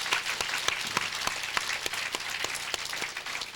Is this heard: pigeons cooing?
no